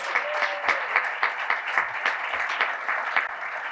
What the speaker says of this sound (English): How about another round of applause for all of our amazing fundraisers?